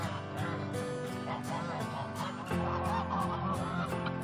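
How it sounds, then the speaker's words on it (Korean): A flock of geese honk continuously while feeding, with many overlapping calls forming a loud, busy chorus nearby. "삐삐는 거위들과 함께 식사를 하고 있다"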